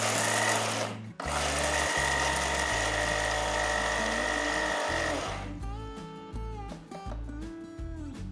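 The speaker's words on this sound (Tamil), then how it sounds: "இப்போ நம்ம இதை பொடி பண்ணிடலாம்." A kitchen grinder powders lentils and asafoetida for Andhra-style podi. It makes a loud, continuous whirring roar for about five seconds, then a rougher, stuttering run as it slows and restarts.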